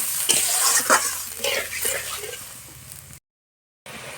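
A fish curry boils in a pan and is stirred, giving a loud bubbling sizzle with scraping strokes, then a short complete gap of silence before the sizzle resumes.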